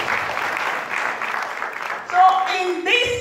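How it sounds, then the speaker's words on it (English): An audience claps for Longrich at a Cameroon multi-level marketing growth meeting, a broad wash of applause that rises near the end, with a voice talking over it. "Clap for Longrich,"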